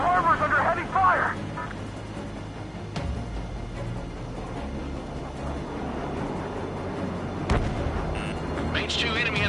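Heavy explosions and missile fire in an Ace Combat 7 air combat game battle over a harbor: dense rumbling blasts with a few sharp impacts, continuous and loud, with radio chatter over it.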